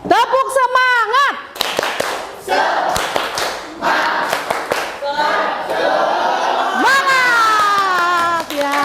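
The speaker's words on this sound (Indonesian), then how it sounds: "Baik, tepuk semangat." Children in an Indonesian classroom clap together in a rhythmic cheer, loud and close, with a woman's sing-song voice leading at the start and children's voices calling out over the claps.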